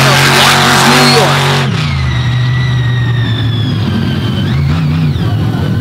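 Plain Crazy, Buddy Tompkins's big blue Chevrolet truck out of Flanders, New York, roars loud and close through its run in Naples, the engine revving and shifting pitch with a harsh, sustained drone.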